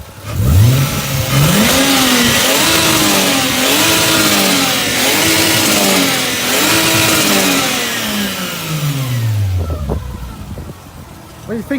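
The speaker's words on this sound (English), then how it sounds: "let's give you one last rev. This time outside the car" A Lexus IS200 fitted with a stage-one turbo revs hard from outside the car, its note climbing and dipping through several loud, rising sweeps before falling back toward idle as a voice speaks briefly.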